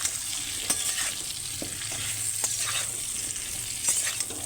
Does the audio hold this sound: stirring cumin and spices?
yes